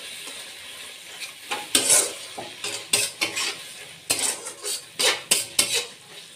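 A spoon stirs finely chopped coriander and mint into egg biryani masala in a metal pot, giving repeated scraping clinks and scrapes in uneven bursts over a soft background sizzle.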